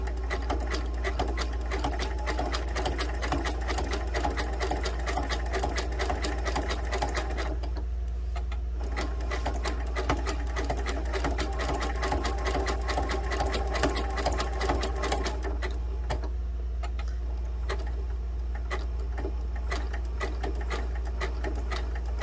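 A sewing machine stitches quilted fabric in a rapid, steady mechanical chatter, pausing briefly twice before running on at an even pace with a low motor hum beneath.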